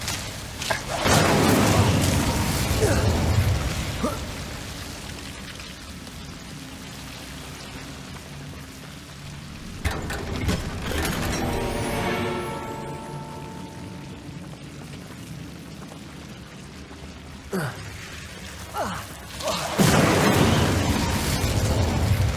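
Incendio fire spells blasting in Hogwarts Legacy, loud bursting roars with crackling, fiery hiss near the start, around the middle and again at the end, separated by quieter stretches of lingering crackle.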